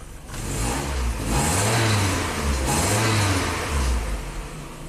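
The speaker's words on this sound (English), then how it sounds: "Let's rev it up." A 1997 Kia Sportage 4x4 engine revs up loudly several times in a row, rising and falling in pitch, close by, with no one talking.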